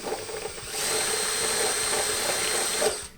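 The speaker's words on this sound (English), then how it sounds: "Probably need to drill a couple holes or just use a bigger drill bit" A power drill whines steadily as it enlarges a hole in the front door panel of a 1990-1994 Chevy C/K Silverado truck, a close, continuous high-pitched grinding that runs for several seconds before cutting off.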